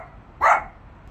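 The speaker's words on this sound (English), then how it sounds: "my dog is barking at something" A dog gives one short, sharp bark, close by, against a quiet background.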